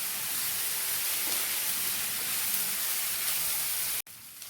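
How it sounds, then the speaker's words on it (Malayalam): Ginger and curry leaves sauté in a pan with onions for a cauliflower masala curry, giving a steady, loud broadband sizzle that runs unbroken and then drops off abruptly near the end. "കുറച്ച് കറിവേപ്പിലയും കൂടെ ഇതിലൂടെ ഇട്ട് കൊടുക്കാം. നന്നായിട്ട് വഴറ്റിയെടുക്കാം."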